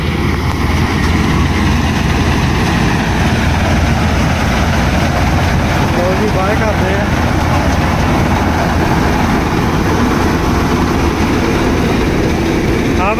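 Loud, steady tractor engine idling and rumbling continuously at close range in a wet paddy field during a rice harvest of PR 121 paddy, with a heavy low drone and no speech.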